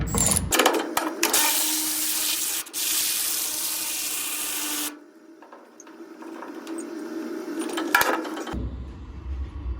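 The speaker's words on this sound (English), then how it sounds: "we might actually just be able to put our socket on here and just should be able just to wind it back" A socket winding back the chain tensioner bolts on a Fisher/Western salt spreader gives a rough, continuous grinding whir in bursts, stopping and restarting with short gaps and a brief clack near the end.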